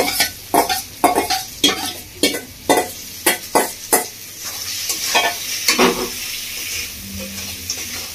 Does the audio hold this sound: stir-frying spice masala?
yes